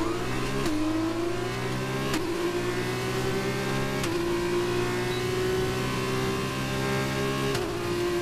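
A Formula 1 car engine in the F1 2021 racing game holds a loud, steady high-pitched whine, with sharp gear-change dips and rising revs repeating every couple of seconds throughout.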